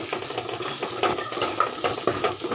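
Masala being stirred into sautéed onions, ginger and garlic in a hot pan, with a continuous close sizzle and moist scraping of the spoon, and no one talking.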